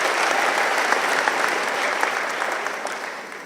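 An audience at a formal evening dinner gala claps to welcome the president to the stage, producing loud, dense and continuous applause that holds steady for a few seconds and then eases slightly.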